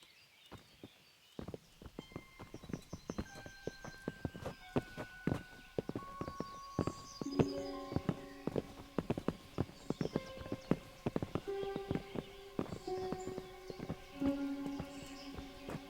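Several horses walk with a steady, close clip-clop of hooves in the medieval role-playing game Kingdom Come Deliverance, with soft game music tones ringing over the hoofbeats.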